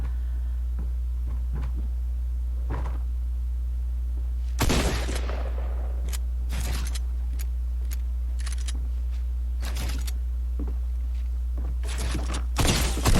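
Shotgun blasts in a fast video game firefight, several sharp broadband bangs spaced irregularly over a steady low hum, two or three closely grouped, with faint clicks between.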